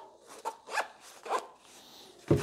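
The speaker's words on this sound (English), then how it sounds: "it zips up into a cute little package that I can throw into my bag" A rifle tool kit case being zipped closed: several quick rasping zipper pulls in short bursts, close and fairly quiet, ending with a soft thump as the case is handled.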